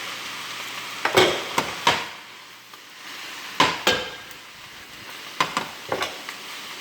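Garlic frying in a pan with broccoli rabe for pasta, a soft continuous sizzle punctuated by several sharp clanks and scrapes of a utensil against the pan, close and clear with no talking.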